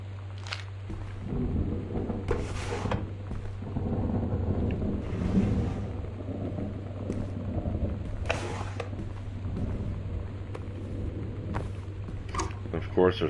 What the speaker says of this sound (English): there's nothing better to have in a haunted house than a thunderstorm